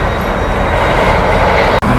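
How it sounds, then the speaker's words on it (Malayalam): A car-carrier freight train rolls past nearby, giving a loud, steady broadband rumble and rail noise that stays constant throughout, with a brief dropout near the end. "തൊട്ടപ്പുറത്തേക്കിടെ കാറ് കൊണ്ടുപോകുന്ന ട്രെയിൻ പോകുന്നു കേട്ടോ."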